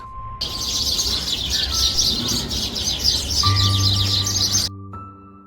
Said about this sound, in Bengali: চারিদিকে গাছপালা, নীরবতা আর পাখির ডাক।